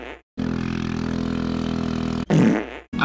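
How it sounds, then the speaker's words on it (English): A Briggs & Stratton L0206 race kart engine runs with a deep, blatting, flatulent drone, loud and close, cutting out abruptly before a short revving burst and another brief cutoff. "the engine sounds like a big fart"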